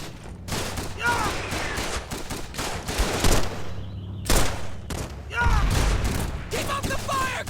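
Sustained gunfire from a World War II battle in Call of Duty 3, with dense bursts and heavy booms from several directions, loud and close, while soldiers shout orders over the shooting.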